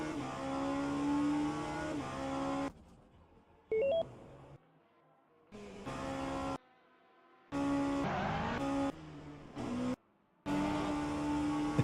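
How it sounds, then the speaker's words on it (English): LMP2 prototype race car engine in rFactor 2, revving high with strong harmonic tones, cut by repeated abrupt gaps and quick shift steps as it climbs and drops through the gears. "It's so weird listening to this LMP2 engine in RF2 because it revs significantly higher than in LMU"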